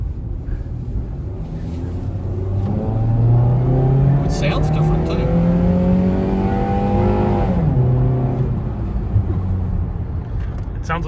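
A GM Atlas four-cylinder engine running in a Chevrolet, idling and then revving up to a sustained, rising drone before dropping back, loud and close, with people talking over it.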